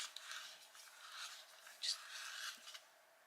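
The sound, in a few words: sharpening soft coloured pencil with a Tagal sharpener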